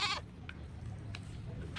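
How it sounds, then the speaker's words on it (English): A goat bleating outside, one short wavering bleat at the start followed by a couple of faint brief calls over a low background hum. "Just then, the sound of their goat, Lily's best friend, was heard outside"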